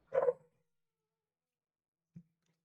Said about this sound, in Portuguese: Olha, cachorrada.